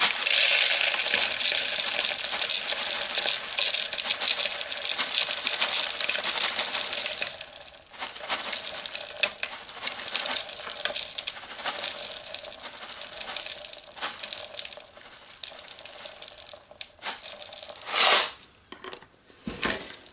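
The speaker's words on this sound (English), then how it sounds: "I am taking my potassium hydroxide, KOH, and I'm going to add that into my jug" Dry potassium hydroxide flakes pour into a jug for dual lye shave soap, making a steady, close, crisp rattling patter that thins out and breaks into scattered bursts near the end, with no talking.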